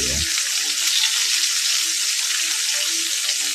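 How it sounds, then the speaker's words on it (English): Bacon sizzles and crackles in a pan, a dense, even hiss that stays loud and unbroken from start to finish. "The sound, that's not rain. It's sizzling bacon."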